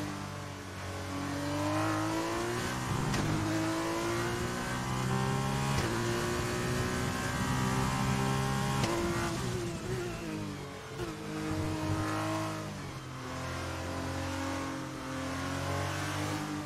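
Formula 1 race car engine in the F1 2020 video game at the French race, a steady high-pitched engine note rising and falling with gear changes and revving throughout, loud and close with no talk.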